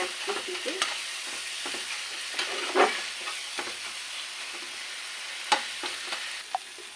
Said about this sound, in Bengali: একটু ভাজি করে নিতে হবে ওপরে কাঁচা গন্ধটা যেন না থাকে